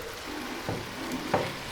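Cooked taro (arvi) pieces hit a pan of masala already fried in oil, giving a steady close sizzle with a couple of soft stirring thumps.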